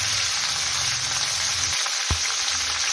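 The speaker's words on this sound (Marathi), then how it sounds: "कापून घेतलेली भेंडी आपण त्यामध्ये थोडीशी फ्राय करून घेऊया" Cut okra frying in oil in a wok, a loud, dense and continuous sizzle heard close up and alone, with one brief low knock near the end.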